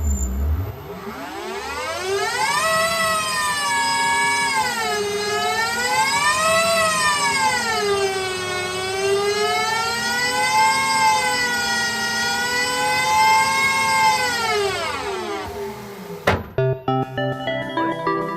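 A Cupra electric race car powers on with a loud, sustained futuristic whine whose rich harmonics sweep up and down in pitch for about fifteen seconds, then cut off abruptly, leaving a few clicks.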